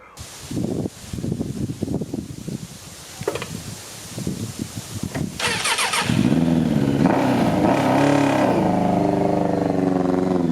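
A 2000 Suzuki Katana 750 motorcycle fires up after some quiet rustling and handling noises, its engine then settling into a loud, steady, close running note that continues to the end.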